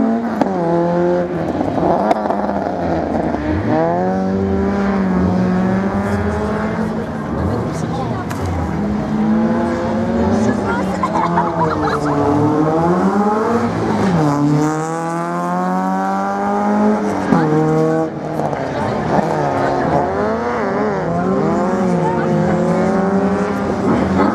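A Citroën Saxo race car in the N2 class accelerates hard through a slalom course at Lessay, its engine climbing and dropping through repeated rev sweeps and gear changes, loud and sustained under a commentator's continuous talk.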